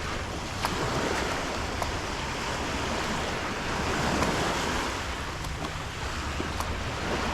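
Ocean surf at Sea Street Beach on Cape Cod during a beach walk, a steady, loud wash of waves with gusting wind buffeting the microphone throughout and no talking.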